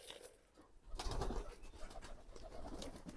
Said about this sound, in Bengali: এখন সবাই এসেছে আর যে ঘরের ভিতরে কবুতরগুলো আছে